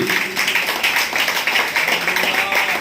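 A congregation at a thanksgiving prayer service claps its hands together in a steady, rhythmic beat to praise the Lord, loud and full, lasting a few seconds.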